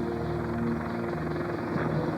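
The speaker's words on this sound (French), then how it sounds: "Cet hélicoptère est un prototype." A prototype combat helicopter flying, a steady droning rotor and engine roar with a constant hum throughout, moderately distant and even in level.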